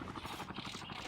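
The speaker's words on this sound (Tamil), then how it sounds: "அடே இன்னொரு ஹெலிகாப்டர் வருதுடா." A video game helicopter's rapid rotor chop pulses steadily at moderate distance, a brief, fairly faint throbbing flutter, in a battle royale game.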